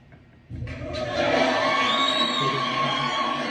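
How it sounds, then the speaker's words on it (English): After a quiet moment, a crowd suddenly erupts in loud cheering and whoops that swell and hold steady. "Give me a round of applause."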